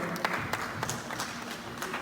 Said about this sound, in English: Dear parents, please clap for them, friends, family, well-wishers, clap for them